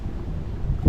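Strong wind blows across a lake around a fishing boat, rumbling buffeting gusts on the microphone that swell into a louder blast at the end.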